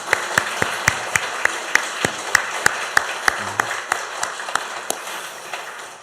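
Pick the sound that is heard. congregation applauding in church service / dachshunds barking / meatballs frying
congregation applauding in church service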